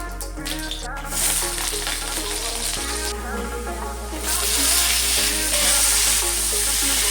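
Fish sizzles in hot oil in a pan. A steady, close frying hiss runs throughout and swells slightly toward the end, with a faint low hum underneath.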